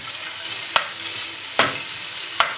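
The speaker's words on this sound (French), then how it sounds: "je vais remuer un peu mes lardons qui commencent à frémir" Bacon lardons sizzle in a frying pan with a steady crackling hiss, broken by three sharp scrapes of a utensil stirring them.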